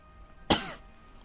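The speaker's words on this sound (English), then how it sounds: "Oh my god, not me coughing." A single sharp cough bursts out near and loud, then trails off quickly into a quiet room.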